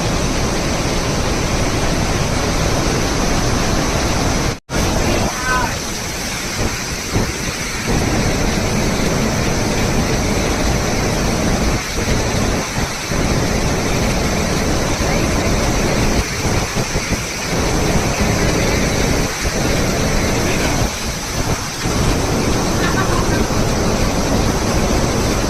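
Montmorency Falls in Quebec pours in a steady, dense roar that fills the whole stretch, loud and unbroken, with a few faint gusts of wind on the microphone.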